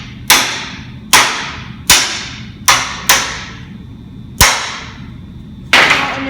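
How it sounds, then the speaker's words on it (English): Metal hammer blows driving a steel vise into place in a sculpture metal shop: seven sharp, loud, ringing strikes at uneven intervals, each decaying quickly, with no talking. "as always, hammer that vise in place."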